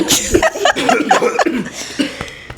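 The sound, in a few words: coughing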